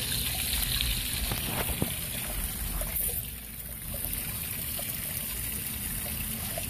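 Water rushes steadily down through a gold mining sluice lined with ribbed matting, a constant close wash and trickle with no talking.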